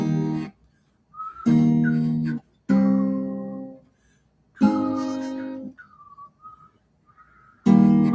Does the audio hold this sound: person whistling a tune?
yes